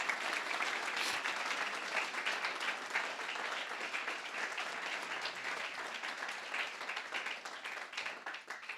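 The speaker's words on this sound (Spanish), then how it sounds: "Dale un fuerte aplauso a Dios." A church congregation applauds loudly and continuously, many hands clapping together in a sustained, even wash of sound from start to finish.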